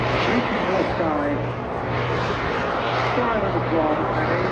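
An aerobatic jet aircraft flies at a seaside airshow in Eastbourne, a steady broad engine roar that swells and fades slightly as it passes, with an announcer talking over it.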